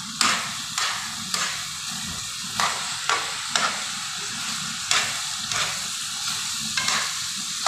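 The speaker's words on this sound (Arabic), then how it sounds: "كده نديها تقليبة تانية كده على السريع" Small pieces of meat sizzle steadily in a frying pan for a quick stir-fry, while a spoon scrapes and stirs in sharp, irregular strokes roughly every half second. The sound is close and continuous, with no talking.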